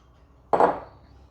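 Chopped onions drop into a soup pot in a single soft, close thud with a brief rustling scatter, followed by quiet room tone.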